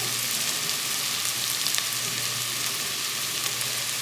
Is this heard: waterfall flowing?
no